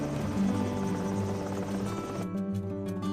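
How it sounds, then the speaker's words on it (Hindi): Helicopter sound effect from a Hindi cartoon story, a steady droning rotor whir filling the clip and dropping in level near the end, with no talk over it. "अब मैं यहाँ एक हेलीकॉप्टर ले आता हूँ"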